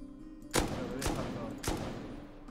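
An M249 machine gun in the Rust video game, three separate loud shot bursts over a low background hum.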